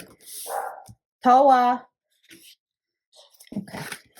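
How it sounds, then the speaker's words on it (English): Small dog gives a single sharp, pitched bark in a room after a walk, standing out between short bits of someone speaking softly nearby. "If you guys hear my doggy barking,"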